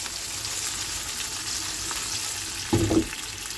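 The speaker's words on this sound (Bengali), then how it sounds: "এখানে আলু ভাজাটা প্রায় হয়ে এসেছে" Potatoes fry in a pan, a quiet, steady hiss of oil with a brief clatter of a utensil near the end, no speech.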